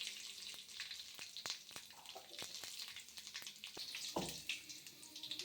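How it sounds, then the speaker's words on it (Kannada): Cumin seeds and dried red chillies tempering in hot oil for a brinjal chutney, a faint close crackling sizzle with sharp scattered pops and one louder burst as something hits the pan. "ಈಗ ಒಗ್ಗರಣೆ ಹಾಕ್ಕೊಬಿಡೋದು ಚಟ್ನಿಗೆ"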